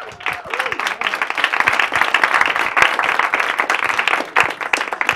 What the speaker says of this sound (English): So we'll have a warm round of applause for Dr.